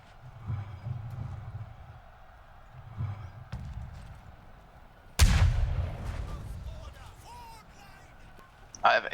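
A mortar fires in a war game with a sudden loud thump and a rolling rumble after it. Earlier, softer hoofbeat rumbles and faint shots sit under a voice in the clip.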